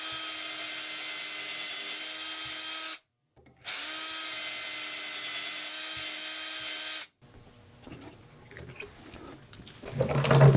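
A power drill whines steadily through a 1 3/4-inch-wide wood piece, boring dowel holes with a DowelMax jig, in two long bursts with a brief pause between, then stops, leaving light clattering and handling noises.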